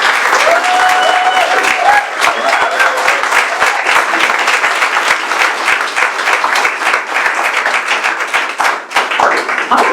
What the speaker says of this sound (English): A massive, massive round of applause to our panel.